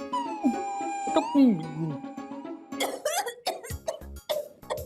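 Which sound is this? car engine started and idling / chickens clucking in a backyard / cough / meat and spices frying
cough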